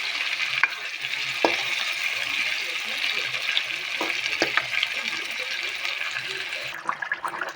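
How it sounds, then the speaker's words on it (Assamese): Chicken pieces and potato chunks fry in hot oil with a steady, close sizzle and crackle, broken by sharp scraping knocks of a spoon against the pan every second or so, with faint background murmurs. "অলপ দেৰি চিকেনখিনিৰ লগত ফ্ৰাই কৰিব লাগিব।"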